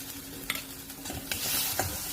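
Ginger-garlic paste fries with tomatoes in a pan, sizzling close by. Several quick spoon scrapes and taps cut through, and the frying swells louder toward the end.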